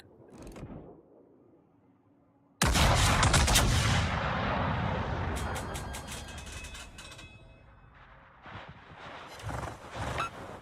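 A warship in World of Warships fires high-explosive shells: a sudden heavy booming salvo with a rolling, crackling tail, then scattered further thumps and blasts, loud and close.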